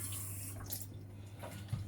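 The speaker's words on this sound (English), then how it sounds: "A bit of water. Just going to wet the pad." Water splashing and trickling onto a drill brush pad to wet it, a brief, quiet running flow heard up close.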